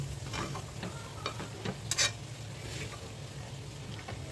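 Mutton for biryani fries in a pan with sour yogurt, giving a steady close sizzle broken by scattered scraping stirs and a sharper clatter near the middle, with no voices.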